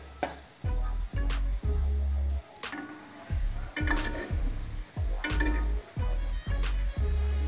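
Sweet potato gulab jamun frying in oil over a low flame, a steady sizzle broken by repeated clinks and scrapes of a utensil stirring against the pan, with no voices.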